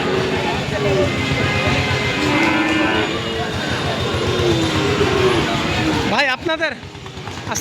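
Cattle at the crowded Rustampur cow market in Rajshahi low and moo amid a constant din of chatter and market bustle, with a sharper, nearer call near the end.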